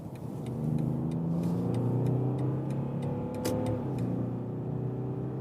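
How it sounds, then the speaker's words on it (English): A BMW 740d xDrive diesel of the G70 generation, in sport mode, accelerates from 70 to 120 km/h. Heard from inside, the engine note climbs steadily and smoothly, moderately loud and without talk, with faint ticking in the cabin. "that was 70 to 120 kilometers an hour acceleration"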